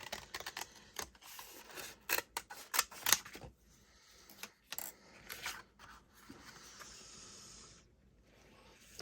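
Scissors snipping paper for a junk journal, a run of sharp irregular cuts and rustles up close, then quieter paper handling with a soft hiss near the end.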